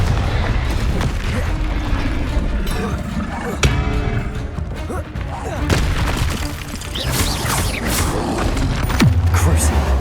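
Expelliarmus and Confringo spell effects from the Hogwarts Legacy video game, a dense, loud run of booms, crackling blasts and mechanical clatter, with several sharp impacts and continuous game music and noise underneath.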